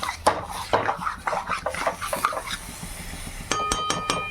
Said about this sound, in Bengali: এবার একটু নাড়াচাড়া করব, এটা মাঝে মধ্যেই নাড়াচাড়া করতে হবে